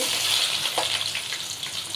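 Onions fry in hot oil with bay leaf and spices for a watermelon curry, giving a steady close sizzle with faint stirring and no voices.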